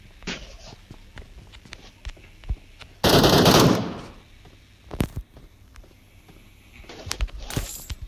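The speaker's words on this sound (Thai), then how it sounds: "เราเอาปืน MK มาใช้ ปืนยอดฮิตในโหมดเมโทร" An MK gun firing in a video game's Metro mode, one loud rapid burst of automatic fire roughly a second long, surrounded by sparse clicks, thumps and footstep-like game sounds.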